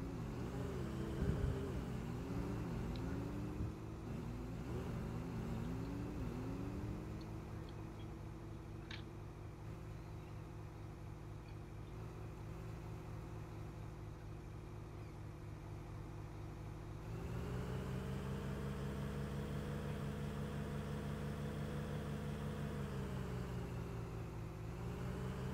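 A vehicle engine in the Construction Simulator 15 video game drones steadily at a low, even pitch for about 25 seconds, getting slightly louder partway through, with no voices.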